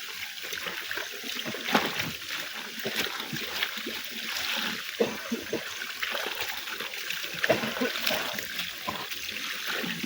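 Water splashes and trickles in an irregular rhythm as laundry is washed by hand outdoors on a mountain, with soft, steady sloshing at moderate volume.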